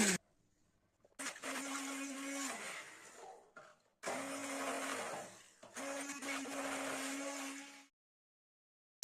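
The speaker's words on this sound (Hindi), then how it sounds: "चाहे ब्लेंडर से ब्लेंड करें या जूसर में करें" An electric blender whirs through soaked poppy seeds in three loud bursts of a few seconds each, separated by short pauses, close up with no voices.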